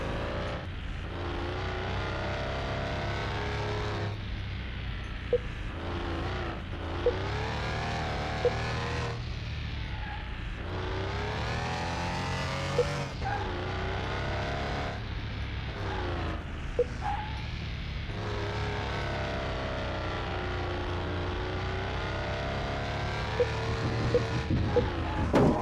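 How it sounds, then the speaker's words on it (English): A Porsche driven around a test track in Car Mechanic Simulator 2021, its engine revving up and dropping repeatedly through gear changes and corners, loud and close throughout with no talk. "let's run this Porsche around and see what we find out"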